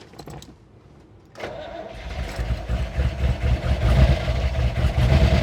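A 1964 Chevrolet Impala SS big-block V8 cranks briefly, then catches and settles into a loud, lumpy idle with solid-lifter ticking, growing steadily stronger up close.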